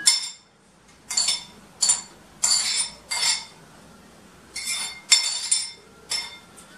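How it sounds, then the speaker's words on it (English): Chopped onions tipped into a mixing bowl for momos, a series of about nine short bright clinks and scrapes of utensil against the bowl at an uneven pace, close and fairly quiet. "So I'll put the onions in this one, the whole amount of onion as I listed in the thing."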